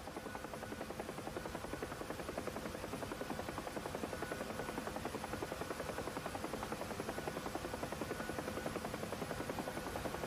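A simulated UH-1 Huey helicopter drones steadily with a rapid rotor thump over a constant turbine whine, heard without voices.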